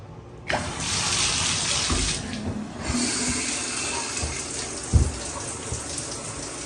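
Hotel bathroom shower head spraying water, a steady loud hiss of running water that starts abruptly and continues with small knocks and bumps.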